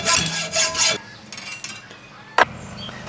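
Hacksaw strokes cutting through metal brackets, a few quick rasping passes up close, then a pause and a single sharp knock.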